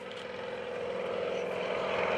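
Stearman biplane flying a smoke-on photo pass at the Greenwood Lake airshow, its steady propeller and engine drone growing slightly louder as it approaches, heard alone without talk.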